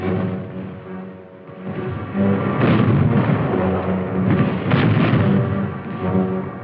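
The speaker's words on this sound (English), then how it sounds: "concentrate our artillery, mortar, and small arms fire on the enemy" WWII artillery, mortar and small arms fire in the Battle of Manila, Philippines: a rumbling barrage of booms that starts softer and swells into continuous heavy explosions, with a tonal hum underneath.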